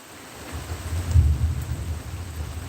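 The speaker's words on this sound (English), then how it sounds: "And there's more thunder." Thunder from a Kentucky thunderstorm swells into a deep, low rumble that peaks about midway and then rolls on, with a steady hiss of rain underneath.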